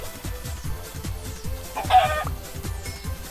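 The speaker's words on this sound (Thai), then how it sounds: "ตรงนี้มีไก่อีก โอ้มีเยอะว่ะ" Several Minecraft chickens cluck in the video game, with short clucks scattered over a steady rhythmic thumping of in-game footsteps and one louder squawk midway.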